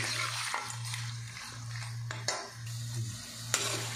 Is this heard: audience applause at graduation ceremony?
no